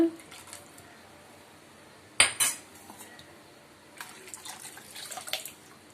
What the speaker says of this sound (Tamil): நல்லா கலந்து விட்டுட்டு தேவையான அளவு தண்ணி விட்டுக்குங்க